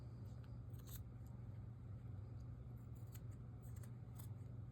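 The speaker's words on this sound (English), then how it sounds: "And then I'm going to trim up that bottom." Scissors snipping yarn while trimming the bottom of a handmade pom pom snowman, with soft repeated cuts over a steady low background hum.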